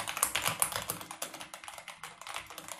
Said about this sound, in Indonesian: Udah mechanical dan juga switch-nya ini brown yang kita pakai ini ya.